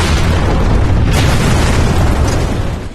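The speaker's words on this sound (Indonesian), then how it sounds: "Ledakan dahsyat tersebut" A loud, sustained blast from a car exploding just as its door is shut in a gangster film scene, a dense roaring burst filling the whole clip before tailing off slightly at the end, with no talking.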